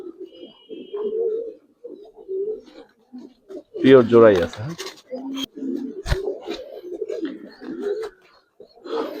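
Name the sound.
pigeons cooing, Giribaz and Army pigeons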